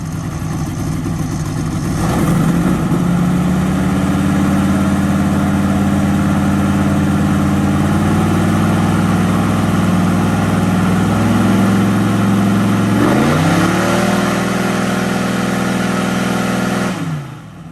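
A Whipple supercharged LS7 engine on an airboat roars loudly and steadily at wide open throttle, with its pitch easing and then climbing again partway through before the power is cut at the end.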